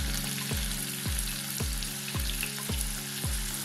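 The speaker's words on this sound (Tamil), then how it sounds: "வெங்காயம் வந்து நல்லா வதங்கட்டும்." Onions, curry leaves and green chillies sauté in a pan for a masala egg fry, with a continuous close sizzle and a regular thump about every half second.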